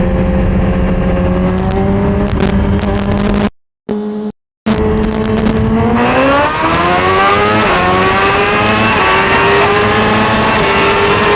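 A 2023 Suzuki GSX-R 1000 sport bike accelerates hard, its engine note climbing loud and close through the revs, broken by a couple of brief dropouts, then rising again through another gear.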